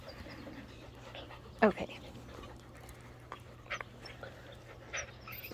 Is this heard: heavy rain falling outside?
no